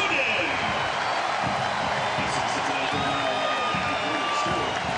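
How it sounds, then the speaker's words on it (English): A large stadium crowd roars continuously at Nippert Stadium during a professional soccer match between FC Cincinnati and North Carolina FC, a loud dense wash of cheering that fills the whole stretch, with a commentator talking over it. "The crowd roars again here at Nippert Stadium as the route is on"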